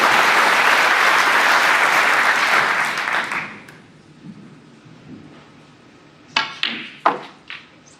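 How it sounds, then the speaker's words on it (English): A snooker crowd applauds a century break with loud, sustained clapping that tapers off after a few seconds, followed by a few sharp knocks in the quieter hall. "Sean Murphy is applauding him as well"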